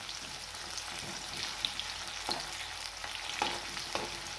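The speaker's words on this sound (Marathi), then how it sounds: "कढाईमध्ये तेल गरम झालं आहे, तर आपल्याला कांदा तळून घ्यायचा आहे." Onion frying in hot oil in a kadhai, a soft, steady sizzle with faint clicks of a slotted spoon stirring, close and quiet with no talking.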